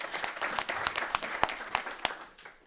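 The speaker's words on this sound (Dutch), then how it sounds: "Applaus, ja." Applause at a panel discussion on financing climate adaptation in Amsterdam: a brief, thin patter of hand claps from a modest audience, alone, fading out within a few seconds.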